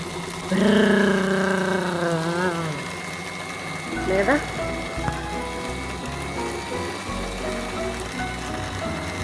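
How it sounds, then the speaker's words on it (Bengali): A kitchen mixer grinds spice paste for a beef curry, its motor whining loudly with a strained, wavering pitch for a couple of seconds before settling into a lower, steadier hum that continues to the end. "মশলাটা আমি যেটা রেখা দিয়েছিলাম একদম সুন্দর করে সেটা তো মিক্সারে ব্লেন্ড করে নিতেছি"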